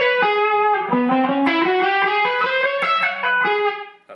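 A harmonized electric guitar solo lick, the second of a set, plays in an effected tone. A quick run of single notes climbs and bends, then settles, close and clear, with no voices.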